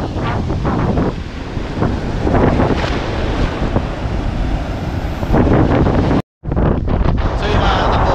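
Strong wind buffets the microphone over heavy surf on a beach at Barangay Bukana, a steady loud roar of wind and crashing waves throughout, with a brief dropout near the end and voices faintly mixed in.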